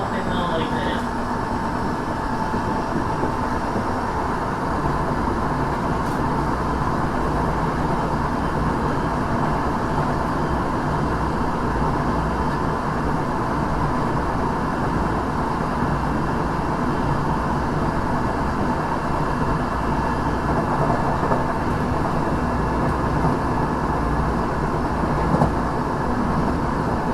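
A Tokyo Metro 6000 series train with Mitsubishi IGBT-VVVF drive runs on a local service between Kashiwa and Matsudo, giving a steady onboard rumble of wheels and motor with a faint whine, unbroken for the whole stretch.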